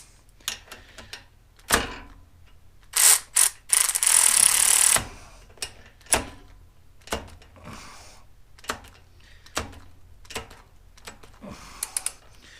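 Snap-on ratchet being torqued to 55 foot-pounds: a few sharp isolated clicks, then a loud burst of rapid ratcheting lasting about two seconds, followed by scattered single clicks and taps at irregular intervals, close by with no talking.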